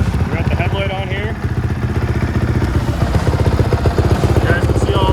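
A custom trike motorcycle with a gold powder-coated frame runs at a steady low throb with a rapid pulsing rhythm as it rides around, loud and close, with a voice talking over it.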